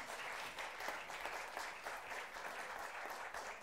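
A lecture audience at a Nerd Nite event in Santiago claps in a dense, even patter, fairly faint and distant, sustained through the few seconds with no voices over it.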